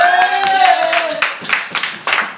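A church congregation at a Sunday service claps in praise of Jesus. A raised voice at the start gives way to sharp, rhythmic claps from many hands in a reverberant hall.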